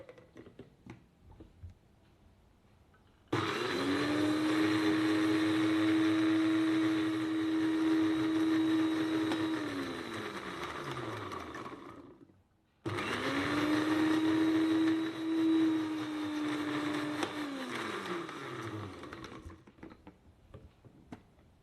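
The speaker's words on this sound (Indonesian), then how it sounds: "Ini aku pakai blender ya" A kitchen blender grinds garlic and shallots with a little water, whirring steadily at close range for several seconds, cutting out briefly, then running again for a second long burst before winding down.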